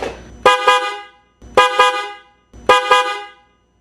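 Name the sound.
three-tone motorcycle air horn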